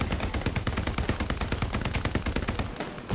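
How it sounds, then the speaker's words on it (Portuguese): Rapid automatic gunfire in the online World War II shooter Hell Let Loose, a fast continuous burst of sharp close shots in an even rhythm that carries nearly unbroken for about three seconds. "Pera aí, Rodrigo, tô levando é tiro, meu irmão"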